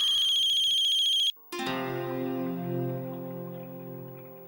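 A phone ringtone warbles in a rapid, repeating electronic pattern for over a second, then cuts off, and a sustained ringing musical tone swells and slowly fades.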